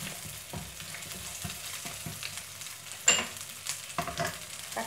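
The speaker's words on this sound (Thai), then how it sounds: "เราก็ใส่กุ้งแห้งลงไปนะคะ คั่วๆให้เขาหอมสักนิดนึงเขาจะได้กรอบค่ะ" Dried shrimp stir-fry in a hot pan for Thai pad thai glass noodles, sizzling steadily with repeated scrapes and clinks of a spatula stirring, close and alone without talk.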